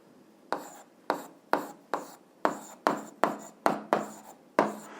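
Marker or chalk writing the label for point C on a board, about ten short scratchy strokes in quick uneven rhythm, close and clear with no talk.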